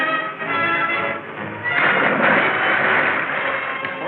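A horse whinnies loudly and close by, its neigh rising and swelling over a steady background of splashing water that runs through the whole few seconds.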